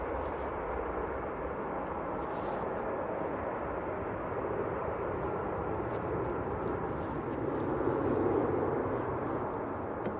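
An aircraft on its landing roll down a wet runway at Manchester Airport makes a broad, continuous rumble and roar that holds steady throughout and swells slightly near the end.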